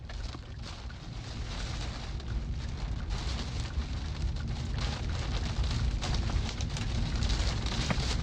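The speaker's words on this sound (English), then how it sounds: "Getting slammed with hail here." Hail and heavy rain hammer down steadily during a huge tornado in Nebraska, a dense, loud, continuous roar with no letup.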